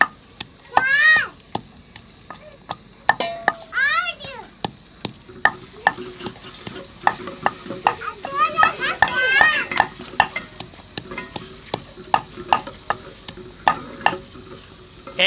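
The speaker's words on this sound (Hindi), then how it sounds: "अब कूट रहा हूँ थूम अदरक" Garlic and ginger are pounded by hand in a home kitchen in Pakistan, a long run of sharp, regular thuds close by, with voices and short high calls breaking in now and then.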